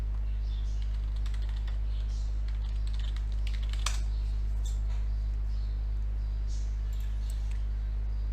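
Computer keyboard keys tapped in scattered bursts while a login username and password are entered, the clicks light and close over a steady low electrical hum.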